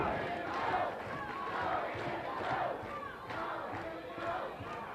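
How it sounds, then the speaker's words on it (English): A wrestling arena crowd, urging on Jim "The Anvil" Neidhart, sends up a sustained roar of shouts and cheers with rhythmic chanting swells. The noise is loud and continuous throughout. "Crowd trying to encourage Neidhart."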